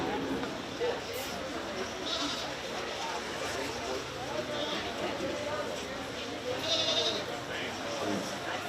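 Market goats bleat intermittently in a county fair 4-H sheep and goat show barn, mid-distance calls rising over steady crowd murmur and a voice over a loudspeaker.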